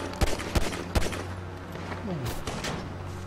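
Small pistol shots in GTA Online, three sharp cracks in fairly quick succession followed by a steady hum of game engine and background noise, with no talk over them.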